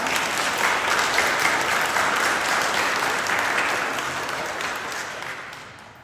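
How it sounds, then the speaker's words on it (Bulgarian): An audience at the presentation of the Vidin city brass band's calendar applauds, a full, steady wash of many hands clapping that gradually fades toward the end. "Моля за вашите аплодисменти за тях."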